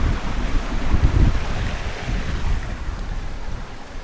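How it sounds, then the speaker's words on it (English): Strong wind in Lofoten, Norway, buffets the microphone in low, gusty rumbles, loudest near the start and easing slightly, with no one speaking. "It is getting windier now."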